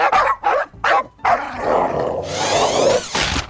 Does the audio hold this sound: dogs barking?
yes